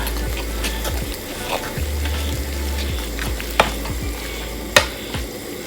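Food sizzles steadily in a hot wok with a little oil and pickled bamboo shoots while a utensil scrapes and clacks against the pan, with a couple of sharper knocks near the end.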